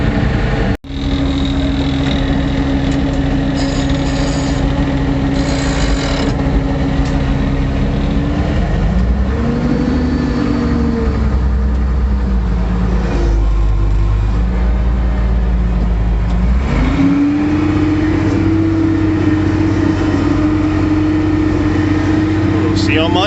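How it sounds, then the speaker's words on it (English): A farm tractor engine idles and runs steadily in a muddy hay field, a low continuous rumble with a couple of rises in revs partway through, close and loud throughout. "get the other tractor fired off"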